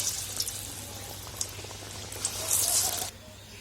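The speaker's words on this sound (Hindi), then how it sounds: "तो तेल हमारा अच्छी तरह गर्म हो चुका है, इसमें हम बड़े को डाल देते हैं।" Lentil fritters (vada) frying in hot oil give a steady, close sizzling hiss with light crackle that swells louder near the end before easing off, over a low background hum and no talk.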